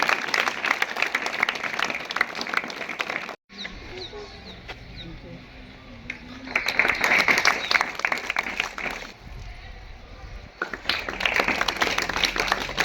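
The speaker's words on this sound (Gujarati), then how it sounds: "આપણે મિત્રો તાળીઓ પાડીશું।" An audience claps during a welcome ceremony at a student cleanliness drive event, bursts of dense clapping broken by a quieter gap with faint sounds.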